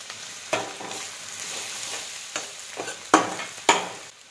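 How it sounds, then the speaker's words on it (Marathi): A paste of ground coconut, sesame and garlic fries in hot mustard-blend oil, with a soft continuous sizzle broken by several sharp scraping stirs and spatula knocks, close and fairly quiet. "खोबरं, तीळ, लसूण याचं वाटण थोडंसं परतून घेऊ अगोदर।"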